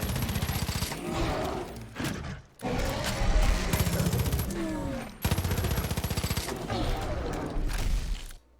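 Rapid bursts of automatic gunfire from an enemy in a first-person game test level, loud and sustained in several long volleys with brief gaps, set in an enclosed little area.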